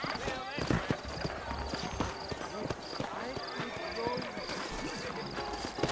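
Horses clip-clop along in Red Dead Redemption, their steady hoofbeats on a town street in New Austin running under a voice and background game sound.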